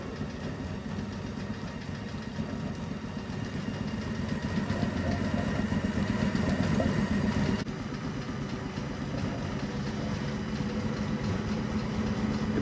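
An old barn find car's engine running steadily with shredding belts, a continuous low rumble and mechanical chatter close by that swells slightly midway, with no voices.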